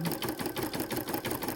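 A Brother 770 or Janome 550e embroidery machine stitches out a design on a blanket, a fast, even mechanical chatter of needle strokes repeating steadily and fairly quietly with no talk.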